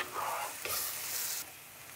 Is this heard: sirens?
no